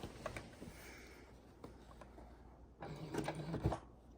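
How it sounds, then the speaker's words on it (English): Quiet sewing machine stitching binding onto the front of a quilt at very slow speed, with short bursts of mechanical whirring and clicking, louder toward the end, close up and otherwise near silent. "I am using the clips and going very, very slow, sewing it on the front"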